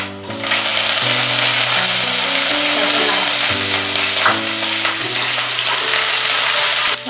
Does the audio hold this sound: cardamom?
yes